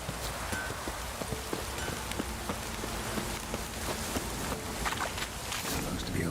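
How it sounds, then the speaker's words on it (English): Light drizzle in The Witcher 3, a soft steady patter of raindrops on surfaces throughout, with faint hoof clops mixed in and a quiet ambient bed. "It's drizzling."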